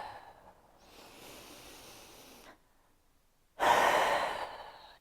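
Deep breathing during a Pilates exercise: a long, soft exhale-like hiss, a pause of near silence, then a louder, fuller rush of breath close to the microphone.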